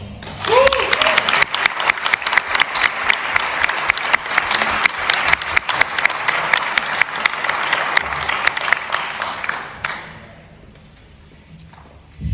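Audience applause welcoming a speaker at a donors appreciation dinner: loud, dense clapping from a roomful of people lasting about ten seconds, then fading into quiet room tone.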